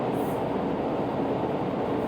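Steady rumble of a WMATA 6000 series Alstom Yellow Line metro train riding from Mount Vernon Square, a continuous loud low roar of wheels and motors heard from inside the car, with no voices.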